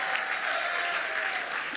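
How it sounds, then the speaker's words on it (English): A large crowd at a government event claps steadily and densely for the President, a full, continuous wash of applause throughout. "A huge round of applause, Mr. President."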